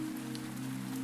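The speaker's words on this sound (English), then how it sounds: "Rain" Steady rain falls on a soft surface at night outside a sleeping house, a continuous, even patter with a low hum beneath it, gentle and unbroken throughout.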